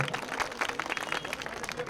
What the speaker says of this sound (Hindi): एक बार इनका ताली बजा के इनका स्वागत कीजिए।